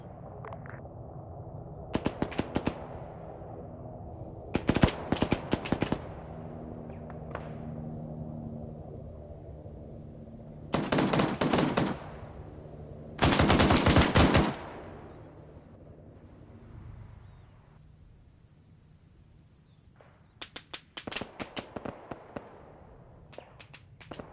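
Bursts of gunfire in a military video game, in several loud separate rattling volleys spread over about twenty seconds with quieter rumbling background in between.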